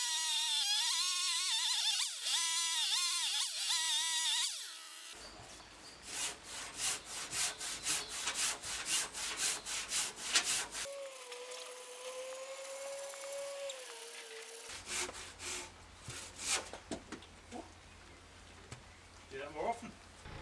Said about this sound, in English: I'm basically going to chainsaw this down at the right angle.